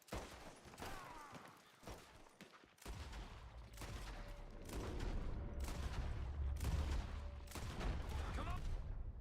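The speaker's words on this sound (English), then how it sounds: "We're shooting our way out of here, boys!" Gunfire in the video game Red Dead Redemption 2: loud, repeated bursts of shots crack out one after another over a low, steady rumble, growing denser toward the end.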